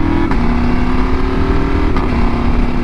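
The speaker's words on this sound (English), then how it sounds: "Oh, there you can actually hear the exhaust a little bit." Motorcycle exhaust from a BMW R1250GS or Husqvarna Norden 901 accelerating on a road, a steady moderate engine drone with rising pitch, continuous for a few seconds amid wind and road noise.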